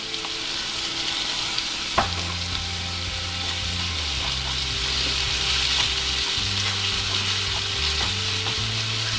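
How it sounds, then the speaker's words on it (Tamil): Ginger garlic paste sautés with chicken for a masala gravy, a loud, dense, continuous frying hiss close up with occasional stirring scrapes and a low steady hum beneath, and no talking. "அந்த இஞ்சி பூண்டு பேஸ்ட் வந்து அந்த வாசம் போகிற வரைக்கும் நல்லா வதக்கிக்கோங்க."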